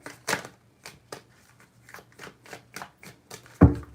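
Tarot cards being shuffled in a rapid run of soft, riffling flutters, fairly close and steady, ending with a sharper tap as the deck is squared.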